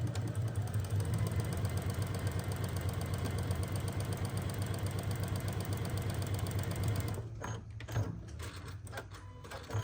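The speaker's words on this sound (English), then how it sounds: "So I'm just going to sew right on the line." A sewing machine stitches along a marked line on a fall acorn quilt block, a steady close mechanical whir with rapid needle ticking that runs for about seven seconds, then stops and gives way to quieter handling sounds.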